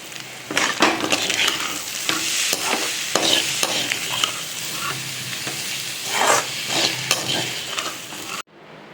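Chicken and egg podimas with curry leaves is stirred in a hot pan: crackling frying sizzle broken by repeated scraping strokes of a spoon, close and loud, before everything cuts off abruptly near the end. No one speaks.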